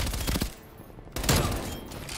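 Rapid MP5 submachine gun bursts in Call of Duty Cold War, a loud volley at the start, a brief lull, then another sharp burst of close automatic fire.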